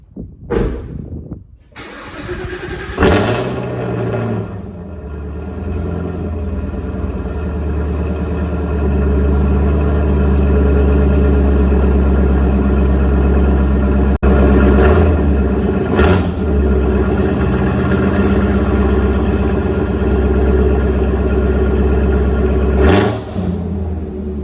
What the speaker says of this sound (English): when you have the dual mode active exhaust in track mode,